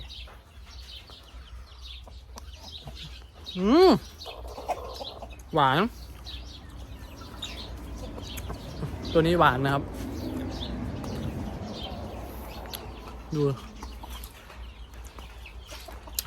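Backyard chickens at a rural Thai home cluck in a few short bursts amid steady outdoor ambience, while someone talks nearby throughout.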